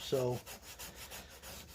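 Sandpaper rubbing rhythmically along a Bowie knife blade in a workshop, steady repeated strokes close to the mic after a brief spoken word.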